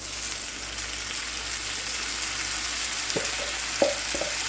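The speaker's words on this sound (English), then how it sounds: "Now we're just going to add in our tomatoes here." A pan of softened onions and garlic, with fresh tomatoes for eggs in purgatory added, hisses with a loud, steady sizzle throughout, and a few small clinks and stirring sounds come near the end.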